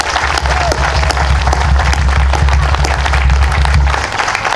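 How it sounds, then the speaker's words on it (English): A crowd at a Highland Games welcoming ceremony claps and applauds loudly and steadily, the dense clapping carrying on before it thins out near the end. "Give him a big round of applause."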